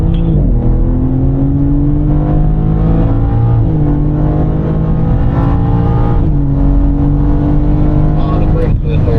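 A BMW M4 on the Desert Palm Circuit, its engine droning loud and close from inside the cabin, pitch climbing through gear shifts as it accelerates, with a driver talking over it.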